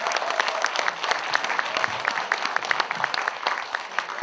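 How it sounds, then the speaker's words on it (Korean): Audience applause after a Korean traditional gugak music performance: dense, steady clapping from a crowd fills the full four seconds at even loudness, with no talk over it. "박수와 함께 큰 박수 다시 한번 보내주시기 바랍니다."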